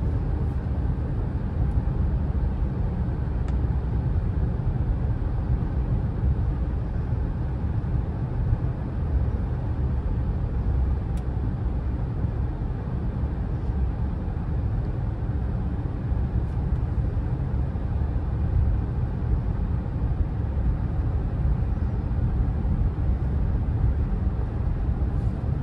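Nissan Murano SUV on a smooth test drive, a steady low road rumble and cabin drone heard from inside the car, even and unbroken throughout with no talk.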